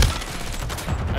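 Gunfire in Call of Duty: Modern Warfare 3 during a Kill Confirmed match on the Stash House map, a dense burst of shots running steadily through the moment, fairly loud, with no talk over it.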